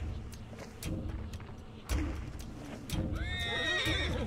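Horses neigh and whinny in the Hunt: Showdown video game, with several rising whinnies in the second half over hoof clip-clops and thuds, fairly close and loud.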